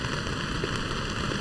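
Heavy rain falls on a night camp beside a stream in full flow, making a dense, unbroken hiss and rush of water with no other sounds.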